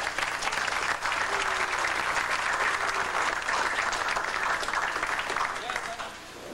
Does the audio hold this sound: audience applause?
yes